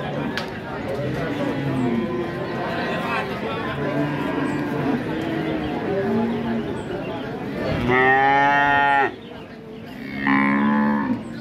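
Cattle moo loudly at the Tuban livestock market, several deep drawn-out calls close by, with a steady murmur of people chattering in the background.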